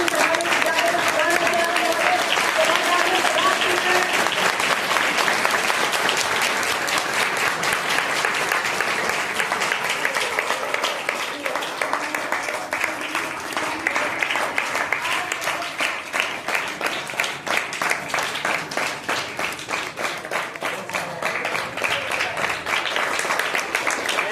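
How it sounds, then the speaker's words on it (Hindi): Sustained audience applause at a school children's assembly welcoming a guest, a dense, steady wash of many hands clapping for over twenty seconds, loud and continuous with a slight thinning toward the end. "जोरदार तालियों से स्वागत कीजिए हमारे"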